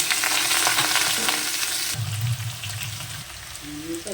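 Potato pieces fry in hot oil in a pan, a close, steady sizzle with a shift in tone partway through as they are stirred, no voices.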